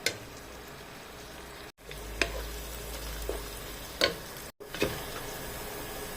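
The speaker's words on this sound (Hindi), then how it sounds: "तो प्याज को करेंगे फ्राई, अच्छे तरीके से ये फ्राई हो जाए।" Chopped onions frying in a pan for aloo matar pulao, a steady close sizzle with occasional stirring clinks and scrapes, and two brief dropouts.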